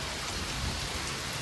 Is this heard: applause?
no